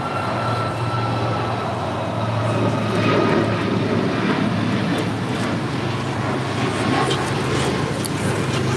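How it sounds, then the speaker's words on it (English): An Alaska Airlines Boeing 737 MAX 9 takes off from LAX bound for Portland, its engines making a steady, loud roar with a low hum beneath, continuous throughout and free of talk. "This is Alaska Airlines 1127 taking off to Portland on a MAX 9."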